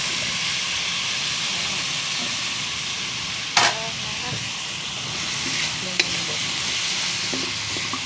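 Carrot and chayote stir-fry in a hot pan for chopsuey, with a steady loud sizzle and hiss and a few sharp clanks of a utensil, close up and without talk.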